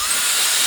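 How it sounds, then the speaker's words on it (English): A Tomzio 200,000 RPM electric air duster fan blows a steady, loud, close hiss of rushing air, uninterrupted and without any voices. "This is a very strong little fan."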